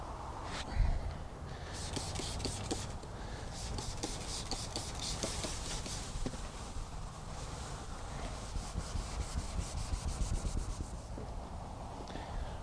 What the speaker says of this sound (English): I probably should definitely sand down this edge quite a bit so that it's nice and feathered